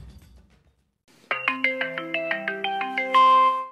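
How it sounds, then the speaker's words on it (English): WeChat app ringtone: a bright, close chiming melody of quick repeated electronic tones building to a sustained final note, heard alone after brief low background noise. "It's an all-too-familiar ringtone for more than a billion people around the world."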